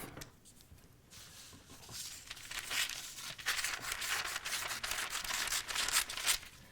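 Scissors cut through a paper pattern piece for a shirt cuff, giving a close, steady run of crisp snipping and crinkling paper that grows louder and busier partway through, with no talking.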